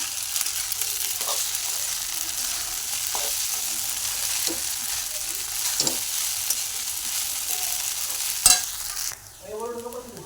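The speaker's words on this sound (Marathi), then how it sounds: "आणि आता कूट घालायचा। हे सर्व एकजीव करायचं।" Sabudana khichdi with crushed peanuts being stirred and fried in a pan, a steady close sizzle with repeated scraping strokes of the spoon, then a brief voice at the end.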